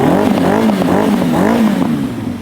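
A 1990s Suzuki GSX-R1100 Slingshot with its original exhaust revs loudly and close, the engine note swelling and falling in repeated throttle blips with a throaty, steady roar.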